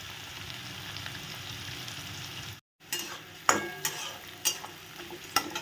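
Onions sizzle steadily in a pan on a medium gas flame, a continuous soft crackling hiss broken by a brief silent gap, then several sharp scrapes and clinks of stirring.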